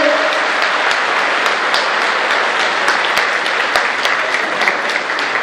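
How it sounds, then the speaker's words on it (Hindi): Dense, sustained applause from a large crowd at a temple religious gathering attended by a chief minister, loud and even throughout with no pauses. "जोरदार तालियों के साथ इस बात की आप पुष्टि कीजिए"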